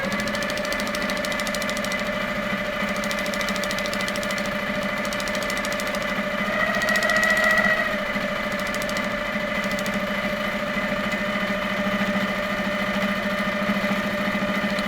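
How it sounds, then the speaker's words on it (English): A sewing machine runs steadily with a continuous mechanical hum and rapid needle stitching, alone and without talk, briefly rising in pitch and loudness midway. "You can really hear the needle making that little sound"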